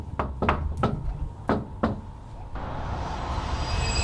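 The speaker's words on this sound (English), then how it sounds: "I'll do the most friendly knock I know." Friendly knuckle knocks on a house door, five distinct raps in an uneven rhythm, crisp and close, followed by a broad, steady background hiss once the knocking stops.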